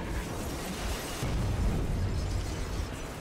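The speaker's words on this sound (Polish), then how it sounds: "Aha, coś słabe tam wybuch." A muffled explosion in the video game Metro Exodus bursts out partway through, followed by a low, rumbling roar that lingers over background noise.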